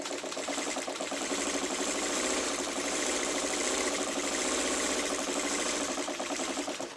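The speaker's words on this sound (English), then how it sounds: "So I sew down one side. I'm making half square triangles," A sewing machine stitching seams on quilt pieces for half square triangles runs as a steady, fast, close whirring clatter without a break, with no voices.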